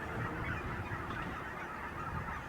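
Flock of geese honking continuously at an outdoor Oregon wildlife spot, many overlapping calls forming a steady, fairly loud chorus with no talk.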